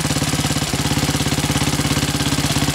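A 1927 Sunbeam Model 6 motorcycle engine runs steadily on throttle, its loud, close, rapid even firing beats thumping alone without a break.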